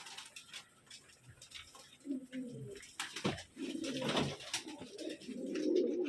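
Pigeons kept in a closed loft coo in low, rolling calls that grow fuller toward the end, with scattered clicks and light knocks around them and no talk.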